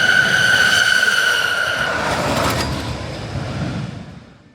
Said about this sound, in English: it makes a concerning screaming sound as the train blasts through the course.